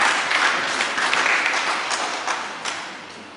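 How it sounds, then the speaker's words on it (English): Lecture audience at a Dominica Community High School anniversary event breaks into a round of applause, a dense patter of clapping that peaks early and gradually tapers off. "Give yourself a round of applause for that."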